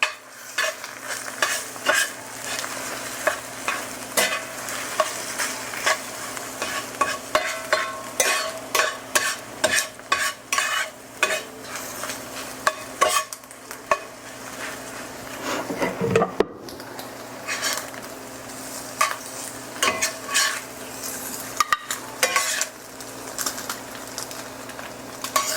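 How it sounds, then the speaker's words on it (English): Scrambled eggs stirred steadily in a cast iron skillet, a continuous soft sizzle of frying under repeated scraping strokes of the utensil across the pan, close and fairly even for a long stretch. "Just keep stirring them till they're done."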